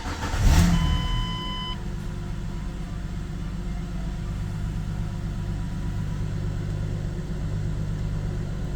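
A 2005-2014 V6 Ford Mustang starts with a brief burst of cranking and a dash chime, then holds a steady, close idle that stays even to the end.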